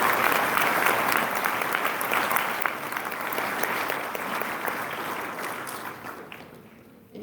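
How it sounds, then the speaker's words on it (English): An audience at a graduation ceremony applauds, a dense, steady round of clapping from a sizable crowd in a hall that gradually thins and fades out. "Round of applause, please."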